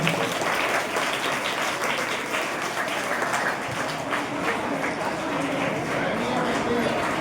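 Steady, dense applause from an audience at a village high school's enrollment and girls' education festival, continuous and fairly loud for the whole stretch with no pauses.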